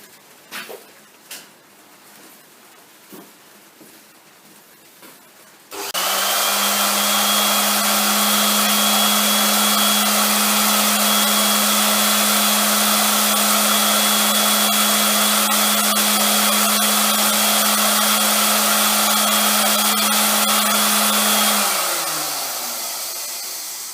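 A motor-driven spindle with a rubber drive belt starts after a few light clicks and knocks, then settles into a loud, steady whine with a strong hum. It runs evenly for about sixteen seconds before winding down.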